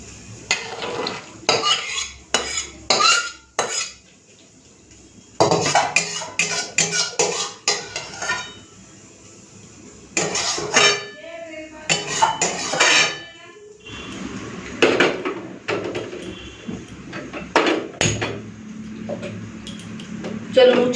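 Metal utensils and dishes clank and scrape in irregular bursts as finished potato poppy seed curry is served out of the pan, with quieter pauses between the clatters.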